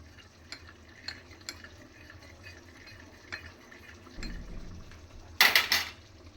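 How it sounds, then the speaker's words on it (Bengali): Arrowroot and water stirred together in a bowl while making a paneer dish: faint, soft scraping for several seconds, then a brief, louder clatter of utensil against vessel near the end, with no talking. "আমি একটু অ্যারারুট নিয়ে নিয়েছি, একটু জল মিশিয়ে নিচ্ছি দেখুন।"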